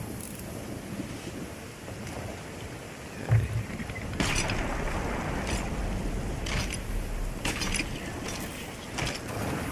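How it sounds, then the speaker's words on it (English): A ship's sail is hoisted in the pirate video game Sea of Thieves, with creaking rope and mechanism clicks over constant wind and ocean waves, a few sharper clunks standing out. "could you pick up the mid-sail? Bring it all the way up."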